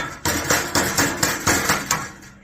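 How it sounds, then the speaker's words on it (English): Mallet blows hammering sheet metal for HVAC ductwork in a shop, six sharp, evenly spaced metallic strikes about half a second apart, loud and close with a ringing decay between hits. "So then you're going to take your mallet"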